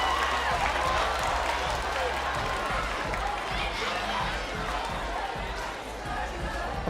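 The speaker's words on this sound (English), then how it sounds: "please keep that applause going for Julia" An audience claps for a volunteer named Julia during a live session, with a dense continuous patter of hands and some crowd murmur that eases slightly toward the end.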